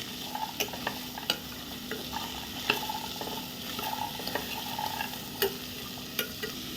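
Dry coconut is stirred into a hot oil tempering for a chickpea usal, a soft continuous sizzle punctuated by light, regular scrapes and taps of a spoon against the pan.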